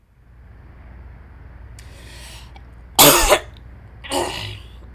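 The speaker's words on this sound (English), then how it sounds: "I'm sorry for all the coughing." A person coughs in two harsh bursts, one loud and one a little softer, close by over a low steady background hum, with a faint breathy rasp just before.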